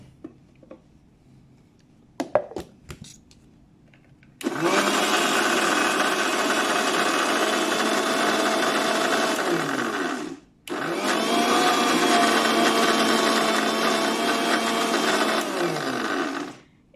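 An electric blender whirs steadily, loud and close, on a batch of homemade mayonnaise made with oil and vinegar. It runs in two long bursts separated by a brief pause, after a few clattering knocks at the start.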